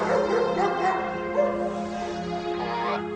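A police dog barks and yips repeatedly near an unattended vehicle, a steady run of yelps and whimpers heard close by over a constant low engine-like hum.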